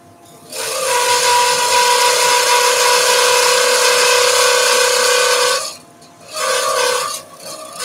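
A skew chisel cuts a resin pen blank on a wood lathe, giving a steady, loud rasping scrape that runs for about five seconds, pauses, then resumes in a shorter pass.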